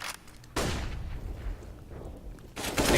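AK rifle fire in a Counter-Strike match: two loud bursts of gunshots, one at the start and one near the end, with rumbling game noise between them and no talk.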